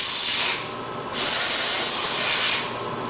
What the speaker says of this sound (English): Air nozzle and hose is included as well for blowing off vices and parts.